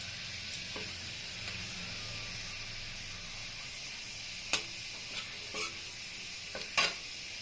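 Chopped garlic sizzles steadily in hot oil for a chilli cauliflower dish, a continuous bright frying hiss broken by a few sharp stirring clicks and spatula scrapes near the end, with no talking.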